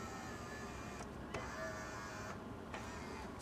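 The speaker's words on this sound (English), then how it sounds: "Oh, window motor still works." Electric window motor in an NB2 Mazda Miata whirring steadily for several seconds, with short clicks where the motor starts and stops, quiet and close.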